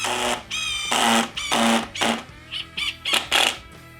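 A DeWALT 860 hydraulic impact driver on speed 1 drives a 3-inch screw into wood, giving a run of buzzing, whirring bursts of varying length, close and fairly loud.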